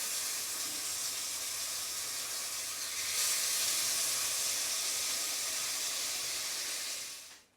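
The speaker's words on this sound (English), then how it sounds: "Sizzling." Steady, loud sizzling and hissing of chicken in a hot pan over a gas flame, for a chicken jalfrezi curry, continues without a break, swelling slightly midway before fading at the end.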